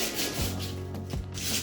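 Hand sanding with sandpaper on a floor inside a bus being converted into a motorhome, a close, continuous raspy rubbing with a few quick back-and-forth strokes and no talking.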